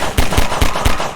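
Grenade blasts in a Source engine video game come as four sharp, loud booming pops in quick, even succession, with no voices over them.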